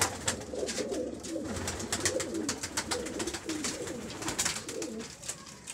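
Golden breeder pigeons, a female among them, coo in soft repeated rolling phrases throughout, with faint background clatter and no talk.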